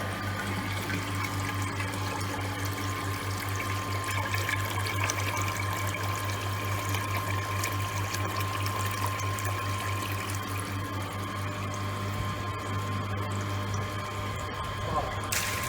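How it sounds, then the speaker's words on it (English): Water pours steadily into a tank through an orifice meter in a lab experiment, a constant loud rushing flow with a low steady hum, no pauses. "we have started to measure time in seconds for the tank to get filled up with the water through orifice meter"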